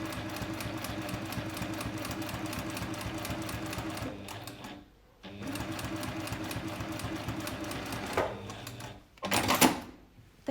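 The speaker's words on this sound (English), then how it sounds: "And it's just the final little stretch of straight stitching left." A sewing machine sews the last stretch of straight stitching on a zippered sunglasses case with bulky interfacing, a loud rapid steady clatter broken by brief pauses, then a few short handling noises near the end.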